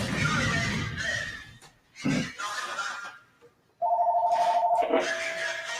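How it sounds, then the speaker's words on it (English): A telephone rings with a steady electronic trill that repeats in a burst near the end, loud and close, after a stretch of indoor noise and faint voices. "Phone's ringing."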